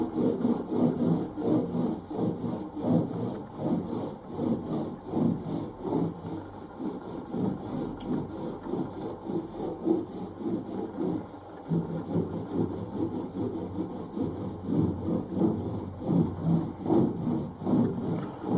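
Wooden panels for a narrowboat are sanded by hand with steady back-and-forth rasping strokes, close and continuous, briefly pausing midway before resuming at the same rhythm.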